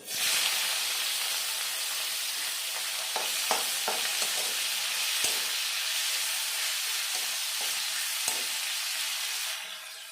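Chopped onions frying in a pan for a papaya and masoor dal, giving a loud, continuous sizzle and hiss close up, with a few faint clinks of stirring and no voices.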